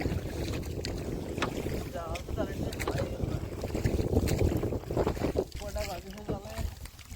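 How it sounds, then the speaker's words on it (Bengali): Cold wind blows across a river during a fishing trip on a boat, buffeting loudly and steadily, with a voice speaking faintly underneath at times. "আর ঠান্ডা ঠান্ডা হাওয়া চলতেছে"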